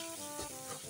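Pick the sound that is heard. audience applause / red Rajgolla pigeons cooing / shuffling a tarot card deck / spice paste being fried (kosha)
spice paste being fried (kosha)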